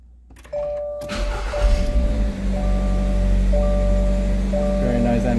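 A 2022 Toyota GR86 with 75 miles on it starts up: an electronic chime sounds, then the engine cranks and catches into a steady idle, loud and close.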